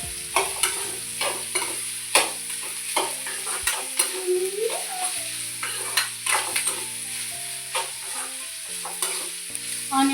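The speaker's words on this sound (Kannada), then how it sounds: "ಆನಿಯನ್ ಸ್ವಲ್ಪ ಟ್ರಾನ್ಸ್ಪರೆಂಟ್ ಆಗಬೇಕು, ಕಲ್ಲರು ಅಷ್ಟೇ ತನಕ ಫ್ರೈ ಮಾಡ್ಕೊಬೇಕು." Onions fry in a pan until transparent for a rustic country-chicken curry, with a spatula scraping and stirring in a steady rhythm over a continuous close sizzle and a faint tonal hum behind.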